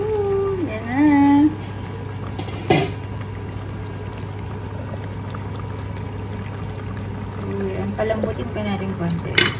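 Leftover pineapple juice is poured into pork humba simmering in a pan, a short liquid splash close by over a low steady hum, with a voice talking nearby.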